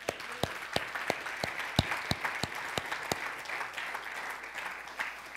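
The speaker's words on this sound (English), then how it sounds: "give God another round of applause" A church congregation applauds during a Christmas sermon, sparse individual claps standing out sharply over a softer steady patter of many hands, moderately distant and without talk over it.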